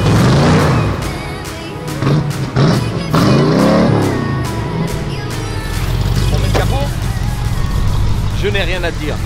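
An AC Cobra sports car engine revs loudly and close while warming up, rising and falling in sharp throttle blips before settling into a rough idle.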